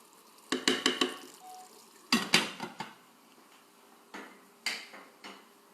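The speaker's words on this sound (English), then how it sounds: "We'll just give a stir to the dal a little bit while it's cooking." A spoon clatters and scrapes against a cooking pot as dal is stirred, coming in sharp metallic bursts of clinks separated by quiet gaps, close and clear with no voices.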